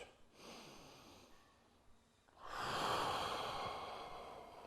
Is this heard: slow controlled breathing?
yes